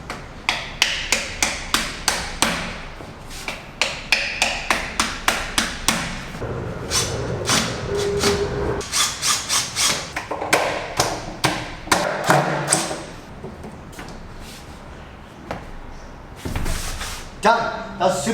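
Repeated thuds as wall plugs are knocked into drilled holes using the back of a drill instead of a hammer, close and fairly loud, coming in quick bursts of sharp taps with short pauses between.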